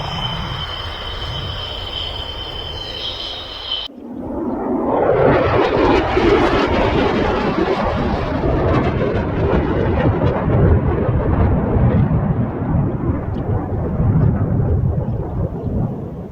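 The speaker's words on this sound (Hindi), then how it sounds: "पाकिस्तान एयर फोर्स के 2 तैयारे JF-17C ब्लैक ट्री और C-130 हरकुलिस" Pakistan Air Force JF-17C Block III jet and C-130 Hercules at an air show: after a short quieter stretch, a loud, broad roaring rumble of aircraft engines swells in and holds steadily, close and powerful, with no voices.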